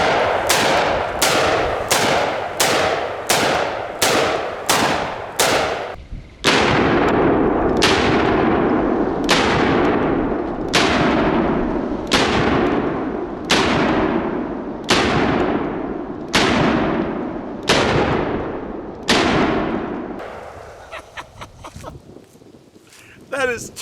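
Two Smith & Wesson 500 Magnum snub-nose revolvers, 3.5-inch and 4-inch barrels, fired dual-wielded: about two dozen loud, sharp booms, a fast string followed by a steadier alternating pace, with ringing decay between shots.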